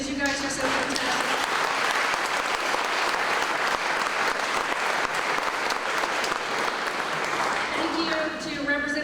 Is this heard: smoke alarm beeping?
no